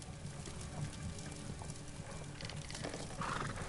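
Horses in the Sherlock Holmes: The Devil's Daughter video game, with steady hooves clip-clopping and an occasional whinny, faint and continuous beneath a busy game soundscape.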